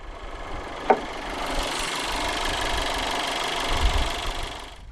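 A 2016 SEAT Alhambra with a 1.4-litre turbocharged inline-four petrol engine idles quietly after start-up, a soft steady hum with a brief click near the start and faint rumbling low down, no talking.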